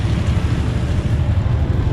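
A Honda VT250 custom motorcycle engine idles on a single carburetor with a steady, loud low rumble throughout, heard alone with no talking.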